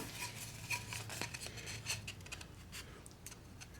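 A miter trimmer blade makes a couple of quick slicing cuts through wooden molding, giving crisp, close scraping and shearing sounds with small clicks, quiet and with no talking.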